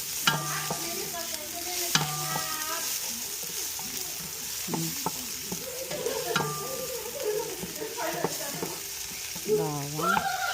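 Oil in a pan sizzles under repeated scraping strokes of a utensil while spaghetti with meatballs is cooked. There is a steady fry with irregular clattering stirs, close and fairly loud.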